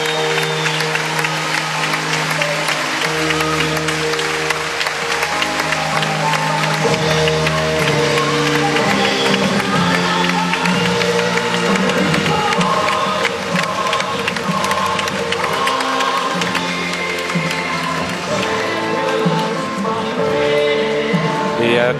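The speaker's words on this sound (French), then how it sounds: "Applaudissements pour Justine, applaudissements aussi pour Anna Chakvetadze." A tennis crowd applauds and cheers after a women's final is won 6-4, 6-2. The sustained roar of clapping and shouting runs under a public-address voice and music for over twenty seconds.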